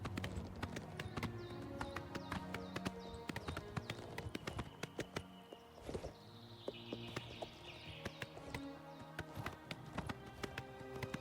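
Horse hooves clip-clopping at a quick gait on a steep mountain trail in Elder Scrolls Online, a steady rapid patter of sharp taps over faint ambient game sounds.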